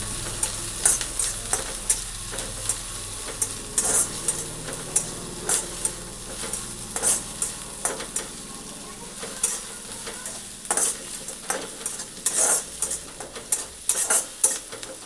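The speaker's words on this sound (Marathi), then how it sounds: "कांदा लवकर मऊ होण्यासाठी त्यामध्ये घालूयात थोडेसे मीठ आणि चांगले परतवून घेऊयात." Chopped onion with a little salt sautéing in a pan, a steady soft sizzle broken by repeated scraping stirs of a spoon against the pan, close and clear with no voices.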